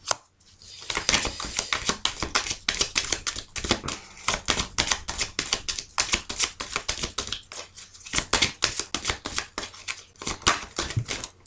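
Tarot cards being cut and dealt out, a rapid, continuous run of crisp snapping and flicking clicks, close by and fairly loud, with no talking.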